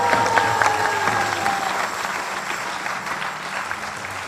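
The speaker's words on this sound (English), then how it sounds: "So a round of applause for the parents." An audience at an ISKCON initiation ceremony claps in steady, dense applause that holds at a fairly even level, with a faint tonal sound drifting beneath early on.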